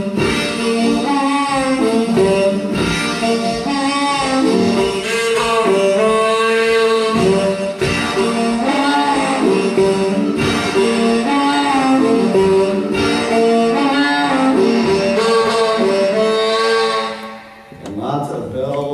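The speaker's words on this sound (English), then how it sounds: "And there's a lot of harmonica in this piece." A harmonica plays a bright, reedy melody over a full band, sustained notes and chords continuing steadily until the music drops away near the end.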